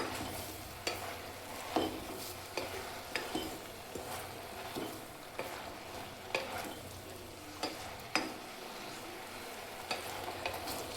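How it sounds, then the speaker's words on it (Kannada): Turmeric and curry leaves are stirred in a hot pan for bottle gourd kurma, faint sizzling broken by regular scraping strokes of a spoon against the pan. "ಅರಿಶಿನ ಮತ್ತು ಕರಿಬೇವನ್ನು ಸೇರಿಸಿ ಮಿಕ್ಸ್ ಮಾಡ್ಕೊಳ್ಳಿ"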